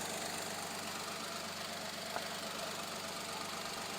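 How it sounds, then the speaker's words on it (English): A 2023 Fiat 500 hybrid's air conditioning compressor runs as a steady, low mechanical hum close by, with one faint click partway through as it engages. "That noise there, that's the compressor, the AC compressor."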